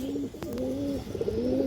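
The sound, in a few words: khaki pigeon cooing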